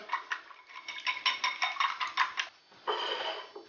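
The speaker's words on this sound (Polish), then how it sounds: "Rozmacamy jajka." A whisk clatters rapidly against a bowl of two eggs in quick, rhythmic strokes, pauses briefly, then resumes with a softer swishing. Close and fairly quiet, with no talking.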